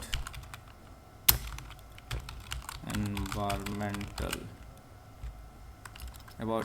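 Fast, crisp keystrokes clatter on a computer keyboard as a text prompt is entered, a near, irregular run of clicks with one sharper hit, while someone speaks over the middle stretch.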